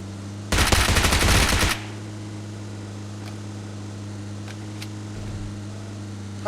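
A single rapid burst of automatic gunfire lasting about a second, loud and close, then a steady mechanical hum with faint scattered ticks.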